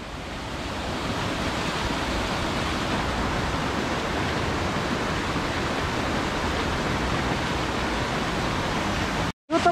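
A waterfall in Australia roars as a steady, dense rush of falling water heard close by, with a brief cut near the end.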